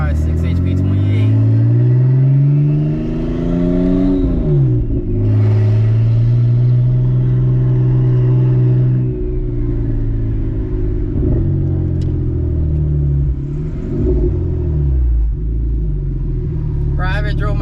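An all-wheel-drive BMW 335xi with a 6HP28 automatic transmission accelerates hard on a test drive, its engine droning loud and close from inside the car, with rising and falling revs as it shifts and people talking over the noise.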